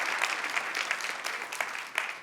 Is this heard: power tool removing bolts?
no